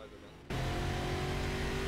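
Race car engine in the Stock Car 2012 video game pulling out of the pit lane, a sudden loud, steady engine drone that kicks in after a quiet half-second and holds, with faint talk underneath.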